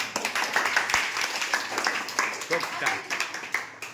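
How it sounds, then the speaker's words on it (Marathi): An audience claps in a classroom, quick dense hand claps filling the clip at moderate loudness with a few voices mixed in. "एकदा जोरदार टाळ्या वाजवा."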